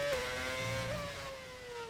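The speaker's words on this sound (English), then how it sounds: "Why does this car sound so good? We are using the mighty V8 engines." Mighty V8 race car engine in a Formula racing game, revving with a steady high whining tone that rises and dips slightly, loud and close throughout.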